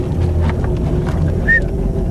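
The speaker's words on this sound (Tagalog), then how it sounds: "pakipatay ng makina" A boat engine runs with a steady low drone near a mangrove shore, continuous and fairly loud, with wind buffeting the microphone and a brief higher tone near the end.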